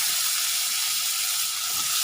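Potatoes hit a pan of frying spiced masala with a steady, loud, bright sizzle that hisses continuously and close up with no talking.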